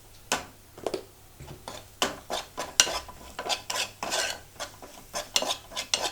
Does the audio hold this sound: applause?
no